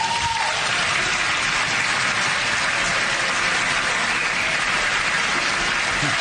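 Dense, steady applause from members of Congress fills the chamber throughout, a continuous wash of many hands clapping at close range with no break.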